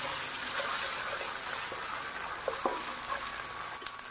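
Ginger garlic paste frying with onions in a pan, giving a steady, even sizzle with a few sharp stirring clicks and scrapes near the end.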